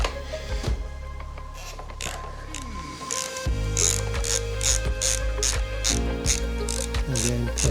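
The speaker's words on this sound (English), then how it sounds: "So we'll loosen the 14 first." Ratchet wrench loosening a 14 mm bolt on a Honda Monkey luggage rack: quick repeated clicking strokes in short bursts, close and crisp, with metallic rattles between pulls.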